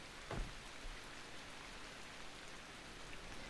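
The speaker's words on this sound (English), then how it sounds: "Maybe it's rain." Rain falls in the video game The Last Caretaker, a steady, fairly faint wash of patter with one louder splash near the start and no voices.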